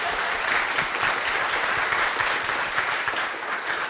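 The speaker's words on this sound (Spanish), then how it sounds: "transmita então uma salva de palmas aos monitores" Applause for the monitors at the closing session of an academic conference, a dense sustained crowd clapping at steady loudness for the full few seconds, with no talk over it.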